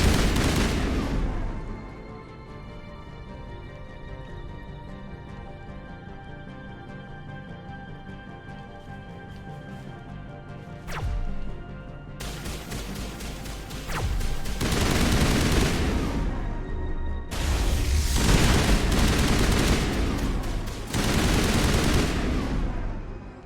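Gunfire in the video game Mass Effect Legendary Edition, with dense bursts of rapid automatic shots and heavy booms over a steady game soundscape, loudest in two long volleys in the second half.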